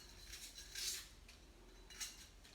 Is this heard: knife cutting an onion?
yes